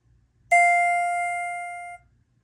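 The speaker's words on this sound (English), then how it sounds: "to make it actually a Schindler 300A MT floor passing chime" A Schindler 300A MT elevator floor-passing chime sounds a single clear, bell-like electronic tone that starts sharply and sustains for about one and a half seconds before cutting off, loud and close over near silence.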